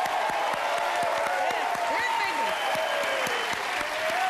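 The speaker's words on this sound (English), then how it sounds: "So give them a round of applause for that." A studio audience at a televised game show bursts into continuous loud applause with cheering and whoops, steady dense clapping throughout while a voice carries over the top.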